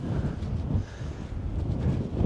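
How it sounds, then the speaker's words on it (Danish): Gusts of outdoor wind buffet the microphone with low, rumbling blasts that swell and ease unevenly, close and fairly loud, with no other sound. "Det blæser lidt her."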